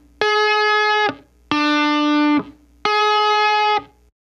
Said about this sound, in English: The pedal tones I'm playing with my ring finger in my right hand, and it's basically these two notes.